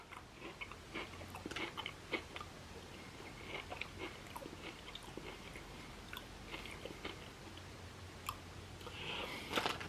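Crunchy viral Dubai chocolate bar being bitten and chewed close to the mic, a steady run of crisp crackles and wet mouth clicks with no talking.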